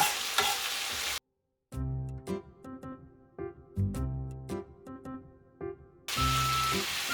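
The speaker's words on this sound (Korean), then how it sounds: "물이 사라질 때까지 1분 정도 더 볶아줄게요." Julienned potatoes stir-fry in a pan with a steady crackling sizzle, broken by a short pause and by rhythmic bursts of scraping and tossing from a utensil, loud and close, with no voices.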